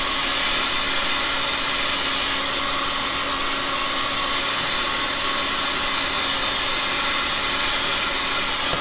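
A heat gun blows steadily on a pink and green resin pour, a loud, continuous, close whooshing roar with a faint electric hum, unbroken from start to finish with no talking.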